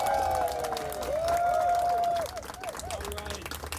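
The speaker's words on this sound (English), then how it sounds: "Let's give Sandy a big round of applause." An outdoor crowd at a sculpture unveiling claps and cheers, loud at first then thinning, while whistle-like tones and calls rise above the clapping.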